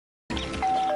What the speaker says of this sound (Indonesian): dikejutkan dengan suara bel rumah yang berbunyi